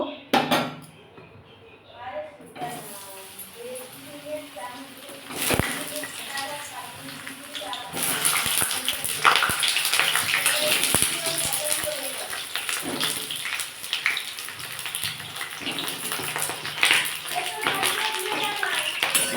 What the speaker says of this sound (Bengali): আমি এবার এর মধ্যে পটলটা ভেজে নেব